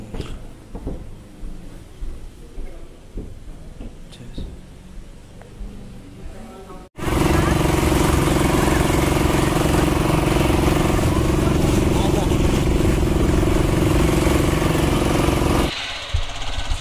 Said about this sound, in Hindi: हम बाइक से घूम रहे हैं